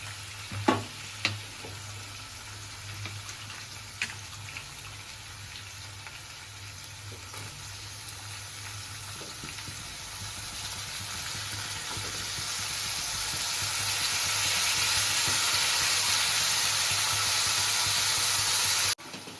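Chopped ridge gourd pieces stir-fried with turmeric in a pan, a steady sizzle that swells louder over time, with a few clinks of a utensil early on and no talking.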